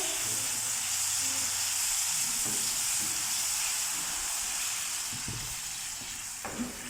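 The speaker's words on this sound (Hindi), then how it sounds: "चिकन इसमें शामिल कर देंगे और इसको अच्छे तरीके से फ्राई करेंगे।" Chicken pieces fry in a pan with vinegar just added, giving a steady, loud sizzle and hiss with occasional stirring scrapes and clinks throughout.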